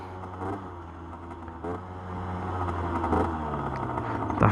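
An Aprilia motorcycle pulls away beneath its new owner, its engine giving a steady, close drone that swells gradually as it gets underway, with no voices.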